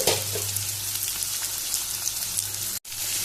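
Onion frying in hot oil in a pan, a close crackling sizzle with a low steady hum underneath, broken by one sharp momentary dropout near the end.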